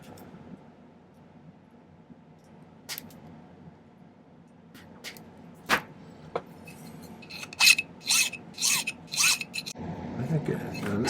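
Small pieces of silver tubing are cut to equal length, heard as a series of short rasping saw strokes that grow louder and more rapid toward the end, against a quiet background with low talk.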